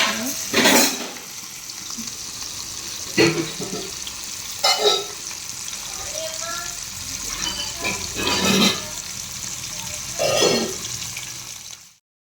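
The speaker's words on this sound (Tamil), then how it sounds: "ஃபிஷ் ஒரு சைட் ஃப்ரை ஆகிட்டுருக்கு." Fish frying in hot oil for a South Indian banana-leaf meal, giving a steady close sizzle with periodic louder bursts of stirring or turning, and some faint voice in the background.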